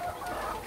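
Laying hens in a small egg-laying flock of about 135 birds give a brief, close burst of clucking.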